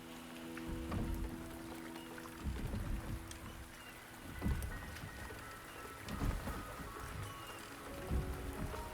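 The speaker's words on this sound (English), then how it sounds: "The rain is subsiding, and the sky will soon clear." Steady rainfall with low rumbles of thunder in the video game Wuthering Waves, a constant patter broken by periodic deep rolling booms, with no voices.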